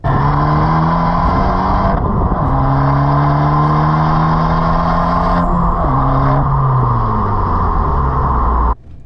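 An Abarth F595 T-Jet engine revs hard, climbing and dropping through several gear-like pitch sweeps, loud and close, then cuts off abruptly near the end.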